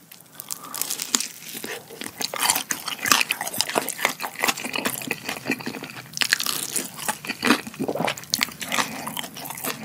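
Crunchy bites into Bburinkle and consommé-seasoned fried chicken, a dense run of loud, close crackling crunches and chewing with irregular rhythm, no talk.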